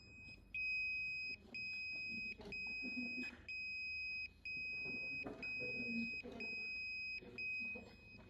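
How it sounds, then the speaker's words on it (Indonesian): An electronic buzzer on a DIY sensor circuit beeps in a fire-alarm pattern of repeating long tones broken by short gaps, fairly loud, with faint background noise underneath. "pola alarmnya kebakaran berjalan seperti itu"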